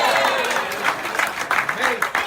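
Guests at the SMARTride 15 rider and crew dinner at Hawks Cay Resort applaud indoors. Clapping comes in scattered, uneven bursts at moderate volume, mixed with a voice over the room.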